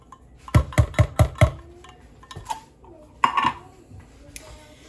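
Drained diced green chilies dumped into a bowl: a quick run of five sharp metallic clinks and taps against the dish, then scattered softer knocks and a brief scraping clatter, with low background noise.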